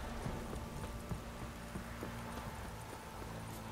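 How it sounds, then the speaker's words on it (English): A summoned horse gallops across grassy fields in The Witcher 3, its hooves clopping in a steady, quick rhythm at moderate volume against a busy game background. "Let's get to the field, the grass outside, and then we'll summon the horse."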